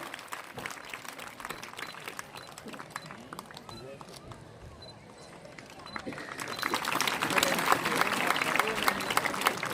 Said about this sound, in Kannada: ಜೋರಾದ ಚಪ್ಪಾಳೆಯೊಂದಿಗೆ ನಾವು ಸ್ವಾಗತಿಸೋಣ